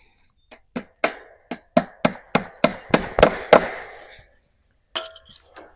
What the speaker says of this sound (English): So now I'll just staple it in place